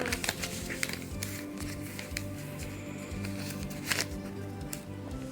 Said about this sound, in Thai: ขั้นตอนต่อไป เราก็จะ พับ อย่างนี้นะคะ